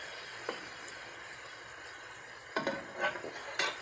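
Quiet scraping and a few clinks from a utensil stirring a salmon dish around a pan, with sparse strokes early and a cluster of sharper scrapes near the end over a faint background hiss.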